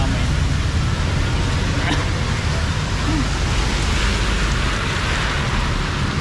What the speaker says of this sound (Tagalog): Ay, grabe, lakas ng ulan.